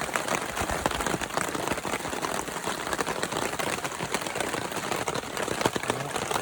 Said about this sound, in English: I don't even know if you can hear me over the rain.